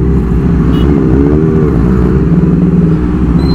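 Loud, busy Jakarta traffic of motorcycles and cars, the engines droning and rumbling steadily around a Kawasaki ZX25R during a congested ride, with no pauses across the stretch.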